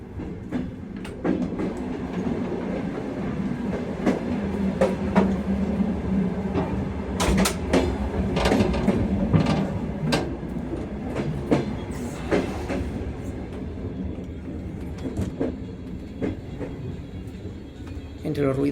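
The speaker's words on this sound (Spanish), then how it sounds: "se escucha perfectamente el traqueteo constante de las ruedas" Constant clickety-clack of Soviet train wheels between carriages, loud and rhythmic, with rattles, metallic squeals and sharp clanks, and a voice talking over it at times.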